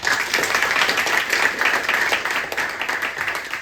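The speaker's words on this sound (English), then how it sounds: "Please give them a round of applause." An audience at a tenth-anniversary celebration in The Hague gives a round of applause for panelists after a discussion, dense continuous clapping from many people that swells and holds, fairly loud and close.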